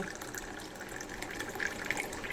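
Hot water poured into a cup holding salt makes a steady, gentle trickling stream, faint and close, without talk.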